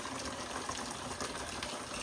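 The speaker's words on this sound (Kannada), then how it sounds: "ನೀರು ಬೀಳತ್ತಾವ. ಮೋಟ್ರ್ ಚಾಲು ಮಾಡೀನಿ ಮತ್ತು ಬೀಳತ್ತಾವ." Water gushes steadily from a motor-driven pump at a home garden, a dense continuous splashing rush with no voices over it.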